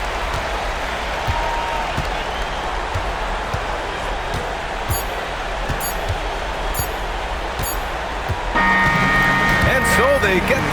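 Video game basketball arena crowd in NBA 2K26 roaring and applauding continuously at a steady, loud level after a home victory, swelling slightly louder near the end, with a commentator's voice running over it.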